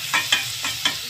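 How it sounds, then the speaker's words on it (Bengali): Onions fry in a hot pan for a chicken mushroom soup, sizzling steadily while a spoon stirs them in four quick scraping strokes, close and clear. "এইভাবেই কিন্তু আমি পেঁয়াজটাকে এরকম হালকা গোল্ডেন ব্রাউন"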